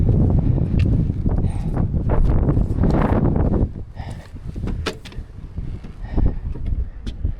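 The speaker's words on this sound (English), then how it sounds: "Get out of here, you stupid wind." Blizzard wind blows hard outside a survival shelter, a dense roaring gust that buffets and rumbles continuously, easing slightly midway with scattered rattles and knocks.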